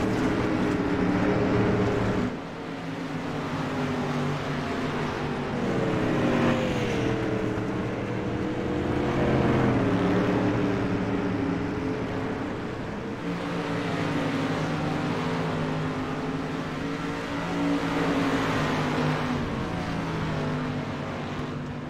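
Dirt-track race car in the iRacing simulator at USA International, its engine droning steadily with shifting pitch as it slides through a corner and gets back on the throttle, loud and continuous with no talk.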